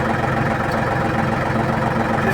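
An old vehicle's engine, struggling in cold weather, running at a steady rough idle with a continuous low rumble and vibration, close by and with no talk.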